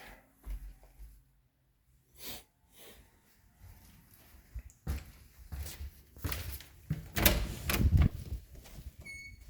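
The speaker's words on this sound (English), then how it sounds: "Gotta put this door back on the track." A sliding door is wrestled back onto its track during handyman repairs: scattered close clunks, scrapes and rattles at irregular intervals, louder toward the end, with no talk.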